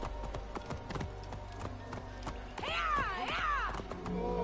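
Horses walk along a street in Alexandria in the video game Assassin's Creed Discovery Tour, with steady, close hoof clip-clops and a horse's whinny partway through.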